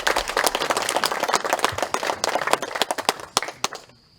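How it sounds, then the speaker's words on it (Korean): An audience at a lecture at Museong Seowon, a Confucian academy, breaks into applause of sharp overlapping claps that thin out and stop near the end. "박수 부탁드립니다."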